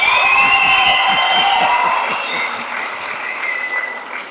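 Audience clapping in Jaffna during a Tamil literary event honouring poet Vairamuthu, dense applause that starts loud and full, then thins slightly while continuing steadily with some whistles and crowd noise.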